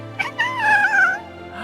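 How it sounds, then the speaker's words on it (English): A cat meows in one drawn-out, wavering call with a short chirp just before it, close and clear, with a faint low hum underneath. "That's a cat."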